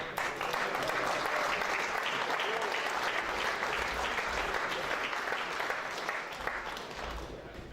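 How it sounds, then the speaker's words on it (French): Applause at a rugby awards ceremony for a school rugby club's label, a steady crowd clapping that is moderately distant and sustained throughout, tapering slightly near the end. "On peut les applaudir s'il vous plaît."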